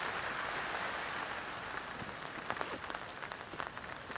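Heavy rain drumming on a small one-person tent, a dense steady patter with sharper individual drops standing out toward the end.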